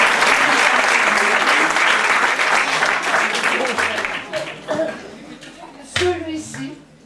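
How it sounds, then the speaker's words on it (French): An audience applauds after a children's recital of a La Fontaine fable, a loud, dense burst of clapping that gradually thins out, with a voice and some chatter rising near the end. "vous pouvez l'applaudir"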